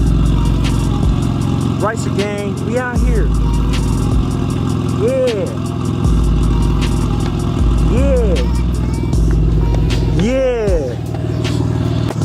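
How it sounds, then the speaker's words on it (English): BMW E46 with aftermarket headers and a stock resonator, idling then blipped through several sharp revs that rise and fall back, loud and close, with someone talking excitedly over the engine. "I'm gonna let the engine warm up a little bit and I'm gonna give y'all some revs."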